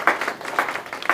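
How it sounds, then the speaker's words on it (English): A few scattered claps from a small audience welcoming a speaker at a biohacking event, brief and close, with irregular individual hand claps rather than a full roar. "Round of applause."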